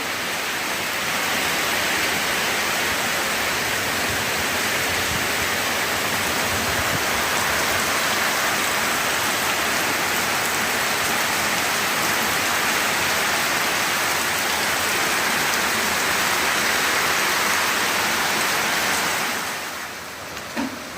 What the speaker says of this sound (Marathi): आज पण पाऊस मस्त येऊ राहिलेला आहे